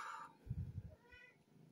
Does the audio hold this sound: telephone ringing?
no